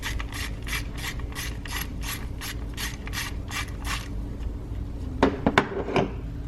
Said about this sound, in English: We're going to use a number 8 millimeter ratchet socket wrench.